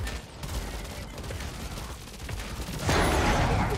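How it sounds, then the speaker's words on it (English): Rapid gunfire from a hero shooter match, steady dense volleys that swell louder and harsher near the end, close and continuous with no talk. "I don't mind if I'm getting shot by the Koga."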